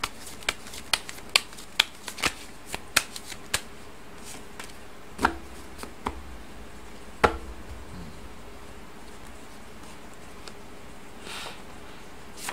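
Fortune-telling cards being shuffled by hand, with a quick series of crisp snapping riffles early on, then sparser, fainter card taps against a quiet background.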